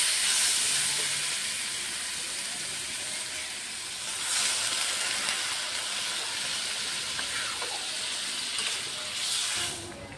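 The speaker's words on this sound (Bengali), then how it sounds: "মশলা কষানো হয়ে গেছে, এখন জল ঢেলে দেব" Water poured into a pan of fried ginger, garlic and onion paste sets off a loud, steady hiss and sizzle that stays close and even for about ten seconds, swelling slightly near the middle and end.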